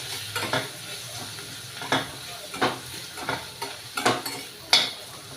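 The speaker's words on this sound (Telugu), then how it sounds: "ఒక నిమిషం పాటు ఇలా వేయించుకొని" Chili powder and salt being stir-fried in a pan for a bitter gourd curry: a steady close sizzle with spatula strokes scraping the pan about once a second, no voices.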